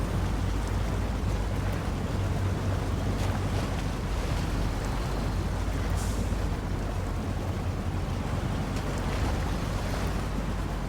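A SnowRunner truck fords a deep mountain river, and the rushing water and splashing blend into a dense, loud, continuous wash. The engine rumbles low underneath, and no one speaks.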